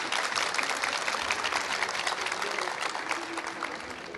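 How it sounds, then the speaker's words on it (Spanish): An audience claps to welcome a guest onto a talk stage, a continuous wash of moderate applause that holds steady and tapers slightly toward the end. "Un aplausito, bienvenida,"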